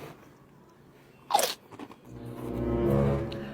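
A crunchy snack with a Coco Crunch taste being bitten, one sharp close crunch followed by a few smaller crunches and then a rising, muffled chewing sound.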